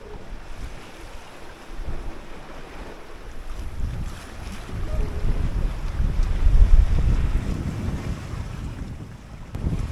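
Strong 20-knot wind buffets the microphone while 4-to-5-foot ocean waves wash against a 21-foot junk rig sailboat, a continuous rough rush that swells and eases, with no voices.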